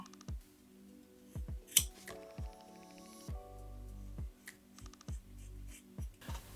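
Scissors snip through hair in a quick series of close, crisp cuts, with short pauses between strokes and faint rustling during a home haircut.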